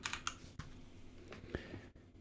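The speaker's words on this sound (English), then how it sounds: "If I can type." Quick bursts of computer keyboard typing during programming work, a few clustered key clicks and a heavier thump, close up and fairly quiet with no one speaking.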